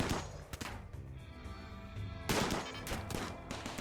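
Gunfire in the colony-management game Rimworld, a quiet series of rapid shots and bursts overlapping in a short volley with no talking.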